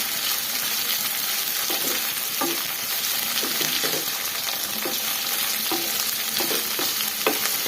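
Pieces being fried and stirred in oil for a Kannada-style special palya and gojju, steady close sizzle throughout with irregular scraping stir strokes, no voices.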